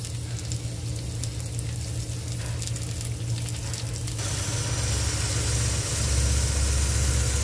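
Cumin seeds tempering in hot oil for a dal tadka, a steady sizzle that grows louder and fuller partway through, heard close over a constant low hum.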